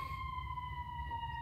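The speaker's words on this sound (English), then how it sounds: "What's that? Siren?" Emergency vehicle siren sounding in a Chicago city street, a steady high wailing tone held loud and continuous over low traffic rumble.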